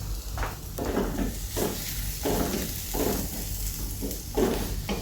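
Sliced onions for biryani sizzling in hot oil and stirred in rhythmic scraping strokes, a steady close hiss swelling with each pass of the spoon, without speech.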